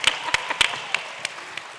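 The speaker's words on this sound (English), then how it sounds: "you can clap for that" Scattered claps from a panel audience at a Netroots Nation conference, a few sharp hand claps thinning out over two seconds with no talking.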